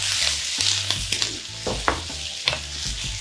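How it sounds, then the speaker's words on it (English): Onions, capsicum and carrots being stir-fried in a pan, a continuous sizzle broken by repeated scraping and tossing strokes of a spatula, close and fairly loud, several distinct clatters over a few seconds, no voices. "I've got some onions, some capsicum, and some carrots. And you just want to stir fry that for a couple of minutes."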